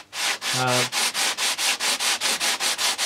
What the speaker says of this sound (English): I slide the sandpaper up and down